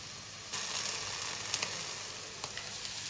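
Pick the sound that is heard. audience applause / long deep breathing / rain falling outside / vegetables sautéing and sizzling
vegetables sautéing and sizzling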